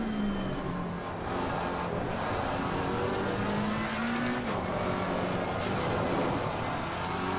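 Race car engine in Assetto Corsa Competizione revving hard under throttle, pitch climbing and dropping through gear changes with a brief tire squeal, loud and continuous with no talking.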